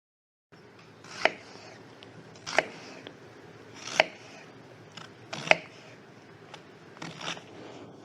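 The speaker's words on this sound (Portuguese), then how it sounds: "Basicamente o que eu faço é cortar a cebola assim." A knife chops an onion on a cutting board in a home kitchen, making four sharp, evenly spaced knocks about every second and a half, then a quicker cluster of lighter cuts, close and clear over faint room noise.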